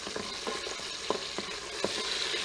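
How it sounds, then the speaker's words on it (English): Cashews roast in a hot Instant Pot, giving a steady bright sizzle with soft irregular stirring clicks and scrapes, fairly quiet and close, with no voices. "we first start roasting the cashew first, so that's what we're going to do"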